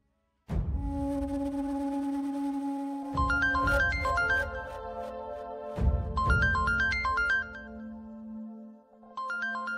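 A phone ringtone in a Marathi TV drama scene plays a repeating electronic melody in clear bursts, loud and close, with no one speaking.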